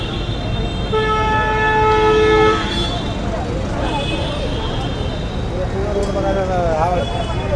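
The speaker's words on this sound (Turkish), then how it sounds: "Korna sesini sürekli duyuyorsunuz." A car horn blares in a long steady toot, followed by more honking amid busy street traffic noise in Mumbai, India, with voices murmuring in the background.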